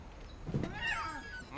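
A cat meows inside the video game What Remains of Edith Finch, a single drawn-out cry at moderate level over a steady game ambience.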